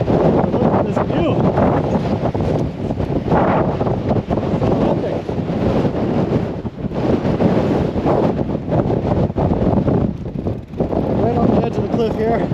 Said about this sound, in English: Whoosh. It's windy.